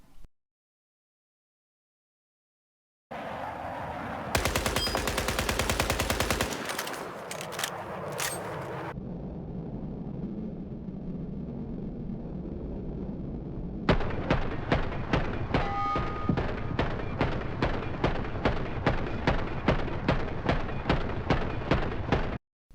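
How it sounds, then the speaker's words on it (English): Full-auto bursts from a SCAR H rifle in a video game, a long sustained stream of rapid, evenly spaced shots firing loud and close, preceded by a burst of explosive noise and a quieter stretch. "The last clip was the SCAR H in complete full auto mode."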